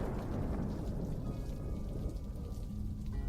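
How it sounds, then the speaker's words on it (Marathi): Heavy unseasonal rain pours down steadily in a dense, loud roar with deep rumbling underneath, likely distant thunder, and no voices. "आहे लय गाजता ते थांबणाऱ्यातलं नाही हा पाऊस"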